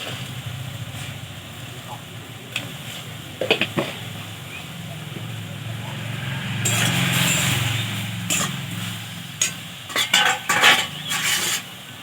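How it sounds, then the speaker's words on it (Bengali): Pumpkin leaves being stirred in a pan, a steady cooking hiss carrying repeated metallic scrapes and clinks of a spoon, louder in bursts toward the end. "তারপর এটাকে একটু নাড়াচাড়া করতে হবে যাতে জলটা শুকিয়ে যায়।"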